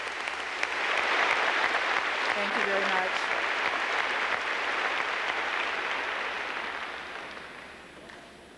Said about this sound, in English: Let's give these wonderful young men and women a round of applause